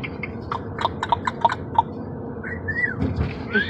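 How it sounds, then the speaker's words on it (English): A pet bird chirps indoors, a quick run of short bright chirps followed by a couple of rising whistles over a low background rumble. "Pretty bird."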